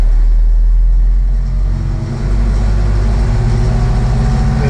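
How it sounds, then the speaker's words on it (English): A TYM T5075 tractor's diesel engine is brought up from idle to higher RPM, a loud, close, continuous rumble that dips briefly and then settles into a steadier, faster drone. "I can go ahead and raise the RPM up here."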